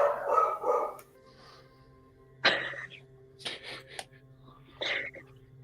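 A person imitates a dog barking, several short gruff woofs in separate bursts spaced over a few seconds, close to the microphone and alone, over a faint steady background hum.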